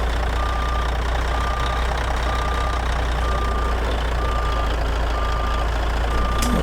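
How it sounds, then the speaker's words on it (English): Steady, evenly spaced reversing beeps from a truck in American Truck Simulator, a Peterbilt 379 with an N14 engine, sounding loud and constant over a low engine drone, with no talking. "enough of the high-speed reverse here"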